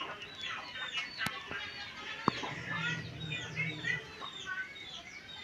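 Chickens clucking and chirping at close range amid a busy farmyard background, with a sharp click partway through.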